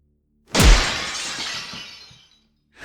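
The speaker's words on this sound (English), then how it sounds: "I quickly grabbed the lamp off the nightstand and smashed it over his head" A lamp smashed over someone's head breaks with one sudden, loud shattering crash, then scattered fragments tinkle and fade over about two seconds, with no voices.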